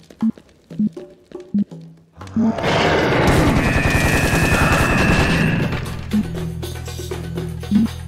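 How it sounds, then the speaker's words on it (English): Grenade launcher in Serious Sam HD fires at close range, a sustained loud mechanical burst of rapid repeated blasts lasting a few seconds, bracketed by short sharp clicks before and after. "the grenade launcher actually works up close range"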